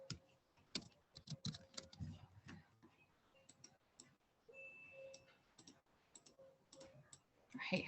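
Keys clatter on a computer keyboard in quick, uneven bursts of clicks, faint and close, while a person talks over them through much of the stretch.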